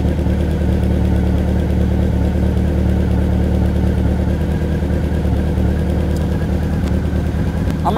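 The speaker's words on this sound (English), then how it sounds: "I'm gonna feed some gas into the bike" A motorcycle engine idles steadily and loudly close by while its carburetors are synced, holding an even rumbling drone throughout.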